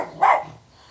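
One sharp, close dog bark at a chimney, brief and loud, followed by quiet.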